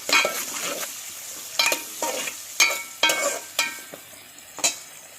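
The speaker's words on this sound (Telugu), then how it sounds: "మంచిగా ఆనియన్ కొంచెం మగ్గనివ్వాలి." Onions fry in a pan with turmeric as a spoon stirs them, giving a series of close, distinct scraping strokes over a soft, crackling sizzle in an otherwise quiet kitchen.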